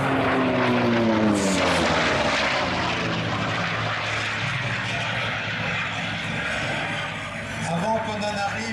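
A Sea Fury propeller fighter aircraft drones overhead at the La Ferté-Alais airshow, its engine note rising and then fading as it passes, with a voice talking over it.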